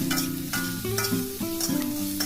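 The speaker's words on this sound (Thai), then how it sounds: "ให้เพื่อนๆใส่กุ้งสดเนี่ยลงไปผัดด้วยเลยค่ะ" Sizzling and scraping of fresh shrimp being stir-fried in a hot iron wok, with a steady frying crackle and rhythmic metal clatter throughout, no voices.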